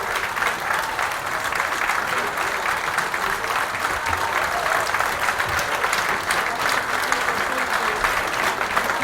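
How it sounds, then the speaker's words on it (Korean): Audience applause at a meeting between political party leaders, lawmakers and residents of Seongju county: dense, steady clapping from a large crowd that holds an even level for the whole stretch without letup. "자리에 앉으실 때까지 큰 박수 부탁드리겠습니다."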